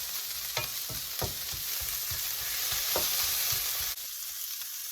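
Green beans and garlic stir-frying over high heat on an electric stove give a steady close sizzle, broken by repeated scraping strokes of a spatula against the pan.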